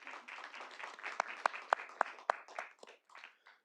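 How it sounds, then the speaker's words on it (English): Audience at a city board of directors meeting gives a brief scattered round of applause, a few sharp nearby claps standing out from a thinner patter before it trails off. "Let's give them a round of applause."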